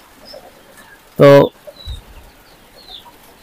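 A domestic pigeon gives a single short, fairly loud coo from a small backyard coop where chickens are also kept, followed by faint soft rustling; a voice speaks briefly.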